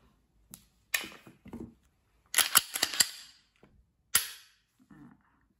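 Mechanical clicks and metallic clacks from a Glock 26 Gen4 pistol being cleared, the slide racked back and snapped forward in a few sharp, close bursts separated by short pauses.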